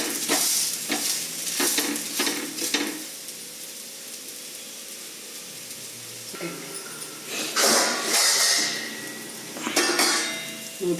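Sizzling of a bottle gourd (suraikkai) adai dosa frying on a pan, with occasional scraping and clinks of a spatula against the metal during flipping, steady and close with no talk.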